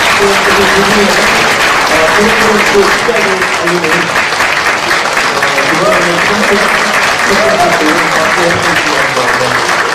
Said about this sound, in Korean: 네, 여러분 박수로 시작을 알리는